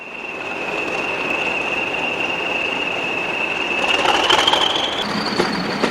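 A British Rail Class 40 diesel locomotive pulls away on its way north, with a steady broad rumble and a sustained high whine that rises in pitch near the end as it gathers speed, with no talk.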